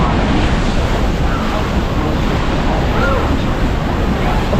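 Strong wind roars at Niagara Falls, a dense, unbroken rush buffeting the microphone, loud and close, mixed with the steady roar of falling water.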